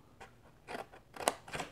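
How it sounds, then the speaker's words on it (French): A paper cutter slices through paper while a gift candle box is being made, giving four short, crisp cutting strokes close by in a quiet room, each a brief rasping swish. "Celle-ci, je vais la découper au coupe-papier"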